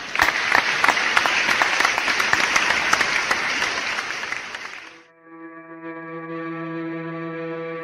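Loud, dense applause from a school audience for a class of four-year-olds at an end-of-year festival in Monòver, cutting off after about five seconds as sustained music with steady tones begins.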